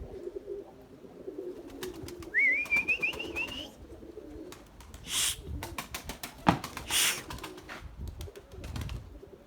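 Low, soft cooing from an Erzurum white pigeon repeats in short bursts, mixed with wind noise, faint whistles and scattered clatter nearby.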